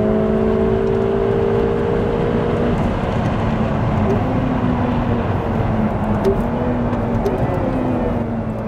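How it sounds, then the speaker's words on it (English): A Ferrari sports car, a Roma or F8 Spider, driven hard, its engine and exhaust droning steadily with a shifting pitch. The note rises and settles through the run, heard from inside the car and without talk. "now it's just time to enjoy the ride. And the handling capability, the exhaust note"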